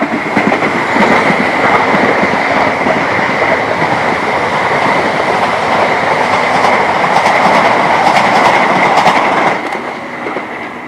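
A train rushes past nearby on a busy line beside a bike path near Adelaide, loud rumbling and clattering wheels on the rails for several seconds before the noise begins to fade.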